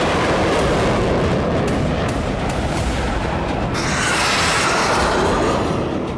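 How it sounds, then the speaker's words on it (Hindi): Bomb explosions in Lebanon in news footage: a loud, continuous rumbling roar of blasts that thickens and brightens about halfway through, with no voices. "फिर लेबनान में कई बम धमाके हुए।"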